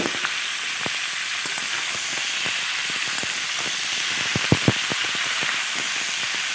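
Beans, brinjal and potatoes sizzle and hiss in a pan with dried fish, a steady close frying crackle with scattered pops and a few louder sputters, no talking.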